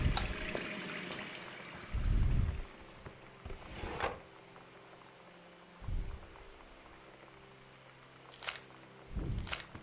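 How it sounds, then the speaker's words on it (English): Tap water running in the video game Gone Home, a soft hissing flow at first, followed by faint intermittent splashes and handling thumps at low volume. "Let's waste all the fake game water."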